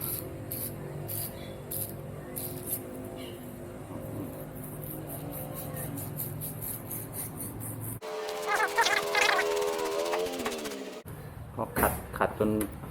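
Lubricant sprayed into the barrel of a Beretta Model 950 B 6.35 mm pistol during cleaning. A close, hissing spray burst of about three seconds comes midway, with someone talking before and after it.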